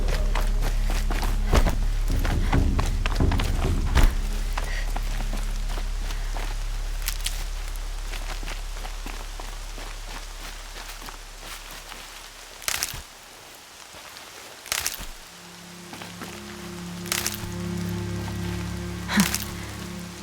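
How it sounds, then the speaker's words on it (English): Rain falling in the video game Horizon Zero Dawn, a soft continuous patter with footsteps crunching intermittently and a low hum fading early, faint overall. "Rain's not so bad."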